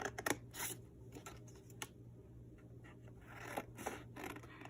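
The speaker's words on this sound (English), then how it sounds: "take the top 2 pages and cut it into thirds" Scissors cut folded paper into thirds, quiet crisp snipping and rustling in short bursts, faint and close with no talk.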